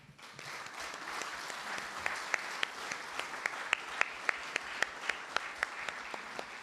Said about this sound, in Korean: 우리 고가형 양에게 여러분 다시 한번 큰 박수 부탁드리겠습니다